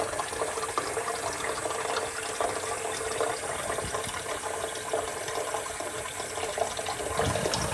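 Plain tap water running steadily and fairly quietly for several seconds during home cat grooming, a continuous rushing splash with no talk.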